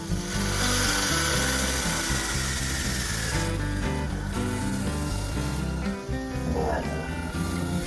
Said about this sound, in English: another 16mm drill to house the lead screw heads on the movable jaw